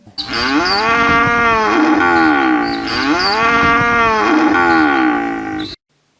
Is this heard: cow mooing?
yes